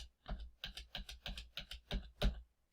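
A computer keyboard spacebar is tapped repeatedly in a steady rhythm, about eight quick close clicks over a few seconds with no talking.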